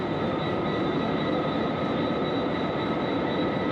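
Irish Rail train hauled by an ageing Class 201 locomotive on the Dublin to Cork line, heard as a steady, loud broadband rumble with a constant whine, running evenly throughout with no talk.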